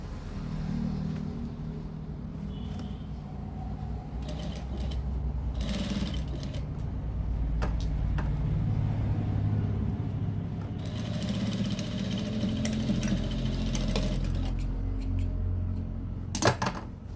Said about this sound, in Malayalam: അപ്പോൾ അതുപോലെ തന്നെ നമ്മൾ ഇതിൻ്റെ 4 പീസും അടിച്ചെടുത്തു.